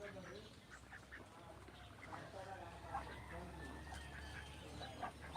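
Ducks kept on a small farm quack faintly and intermittently in the background, mixed with some clucking, while voices murmur nearby over a low rumble.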